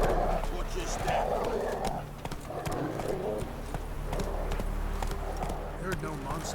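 Horse hooves clip-clopping steadily at a walking pace in The Witcher 3, a continuous rhythmic patter heard close, with ambient bird sounds and a voice talking over it.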